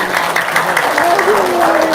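Audience clapping at a seminar on paying off debt, a steady loud patter of many hands under a speaker's voice and some laughter from the crowd.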